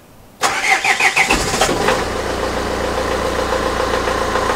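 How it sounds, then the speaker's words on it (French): A Trafic 1.9 dCi van diesel engine with a newly fitted turbo cranks with a few rhythmic starter pulses, then catches and settles into a steady, close rumbling idle. "regarde comme il démarre bien maintenant"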